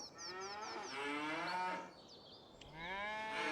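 Cows moo from a farm in the video game Farming Simulator 25: several drawn-out, fairly quiet moos follow one another, with a short pause between calls.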